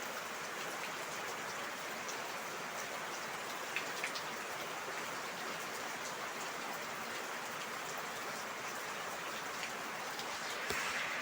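Heavy rain pouring steadily onto surfaces outdoors, a dense, even hiss with scattered drips and patters, continuous throughout and moderately loud with no voices.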